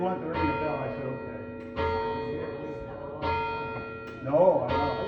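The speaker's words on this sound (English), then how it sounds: "They want to ring the bell." The church bell at Grace Evangelical Lutheran Church in Shamokin, Pennsylvania tolls in four loud, resonant strikes about a second and a half apart, each ringing on and decaying while people chat nearby.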